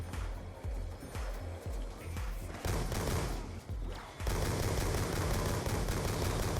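Rapid bursts of video-game gunfire shooting zombies on the Call of Duty Zombies Buried map, sharp repeated shots in uneven clusters, then a louder sustained wash of firing and noise toward the end.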